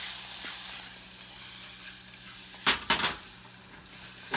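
Rice and garlic browning until golden in a hot pan, a steady airy sizzle throughout, broken near the end by a few louder scraping clatters of stirring or pan handling, with no voices.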